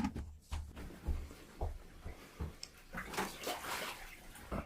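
Water sloshing and splashing in a bucket with feet in it at a woodland cabin, irregular wet churning close by, with quiet background activity.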